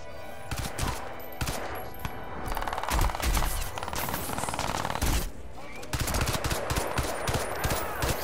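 Rapid automatic gunfire in the shooter Crysis 2, sustained loud bursts with short pauses between volleys, close and harsh, with some speech mixed in.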